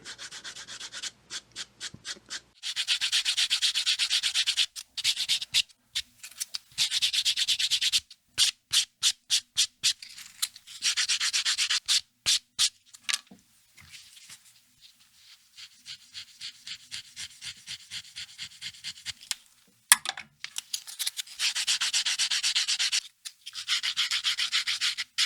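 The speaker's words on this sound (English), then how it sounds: "finish up with a bit of sanding with some coarse grit and then some fine grit" Sandpaper is rubbed over the edge of a leather SD card wallet, first with coarse grit and then fine grit. The close, scratchy strokes come in quick rhythmic bursts with short pauses between them.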